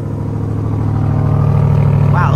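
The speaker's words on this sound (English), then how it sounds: "It's got a really nice exhaust note." A General Motors vehicle engine idles just after a cold start, its exhaust note a steady, loud, low rumble through big dual pipes, close by and continuous, with a faint higher whine near the end.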